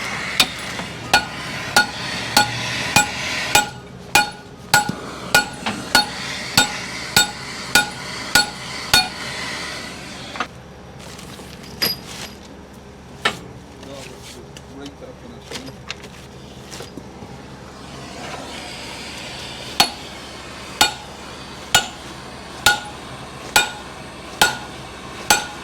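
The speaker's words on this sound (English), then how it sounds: "Yeah, I'll get a big hammer on it." A big hammer strikes cone crusher parts in a regular, ringing metallic rhythm, loud and close, with about two dozen blows in bursts separated by a quieter pause.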